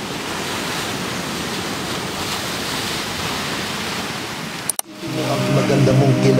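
Ocean waves wash onto a Mindoro beach at sunrise in a steady, near, broadband rush of surf. The rush cuts off abruptly near the end, followed by handling noise and a low hum.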